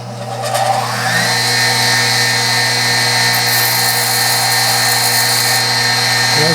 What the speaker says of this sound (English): So just kind of hold the parting tool square to the wheel, and just use the whole face of the wheel.